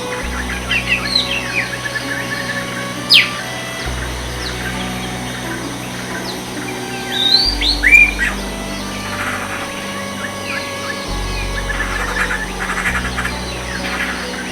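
Varied drongo bird calls and chirps, including mimicked calls of other birds, ring out intermittently over a steady low hum in a Thai rainforest, some sharp whistles and squawks standing out now and then.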